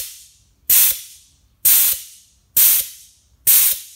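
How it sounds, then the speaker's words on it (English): Four sharp bursts of compressed air blast over an air filter to knock the dust off, each a loud hissing puff that tails off, evenly spaced with silence between. "It's like 10 bursts of compressed air."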